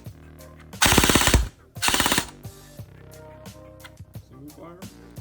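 A CYMA MP5K airsoft electric gun fires on an 11.1 volt battery, letting off two loud full-auto bursts of about half a second each, followed by quieter single clicks, with talk in the background.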